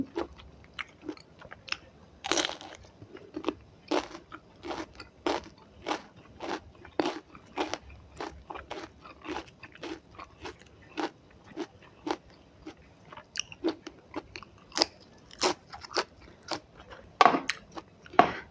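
Crunchy chewing of spicy som tam with crispy sausage, eaten up close: a long run of sharp, crisp bites and crunches that repeat at a quick, fairly regular pace, with no talking.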